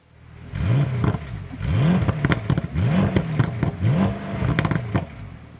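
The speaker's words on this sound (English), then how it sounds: "here we go with the engine, a 4-liter V8 with 550 horsepower" A 2020 Bentley Continental GT with a 4-liter V8 is revved repeatedly, five rising and falling blips of a deep burbling engine with crackles between each, loud and close, no talking.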